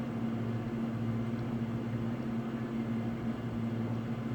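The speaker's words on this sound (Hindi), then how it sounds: "तो ऑयल मैंने गरम कर लिया, इसमें मैं कोफ्ते डाल रही हूँ। सारे कोफ्ते मैं एक ही साथ में फ्राई कर रही हूँ।" Chicken kofte fry together in a pan of hot oil, giving off a steady, dense sizzle with a low hum beneath it that holds evenly throughout.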